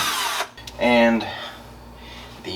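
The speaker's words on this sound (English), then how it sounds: "I'm going to drill a 1/4 inch hole in this vertical drain pipe" A power drill boring a 1/4 inch hole in a vertical drain pipe whirs briefly, spinning up for about half a second, with a short burst of noise before it and a quiet hum after.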